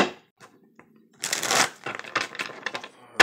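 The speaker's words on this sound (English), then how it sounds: "as I'm shuffling up this deck" A deck of playing cards is shuffled up close: soft taps, then a burst of rapid riffling and a few quick card snaps.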